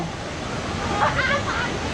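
Rushing water of Datanla waterfall fills the scene as a steady, broad roar, with people talking over it partway through.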